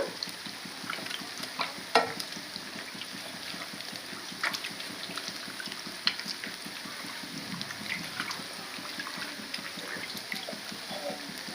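Bitter gourd (kakarakaya) fries in a pan with steady oily sizzling and occasional stirring clicks and scrapes, close and moderately loud, with no talking.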